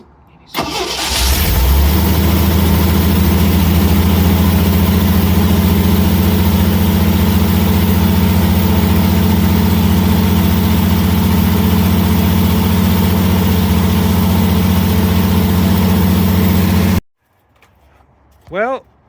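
An old Jeep engine, just revived, cranks and catches, then settles into a steady, loud idle with a low, even rumble before cutting off abruptly.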